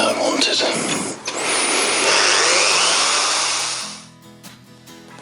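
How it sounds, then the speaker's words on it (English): A loud, whining power drill roars steadily for several seconds, close up, during chain and sprocket work on a Kawasaki Versys 650 motorcycle, then winds down and cuts off, leaving quieter rattling afterward. "I have to drill that now, won't I?"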